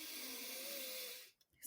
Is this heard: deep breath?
yes